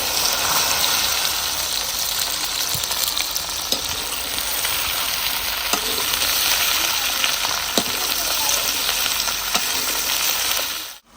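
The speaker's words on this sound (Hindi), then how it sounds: "भिंडी फ्राई हो चुकी है" Okra (bhindi) fries in a pan with a steady, bright sizzle and crackle that holds loud and close throughout, with occasional sharp pops, before cutting off abruptly at the end.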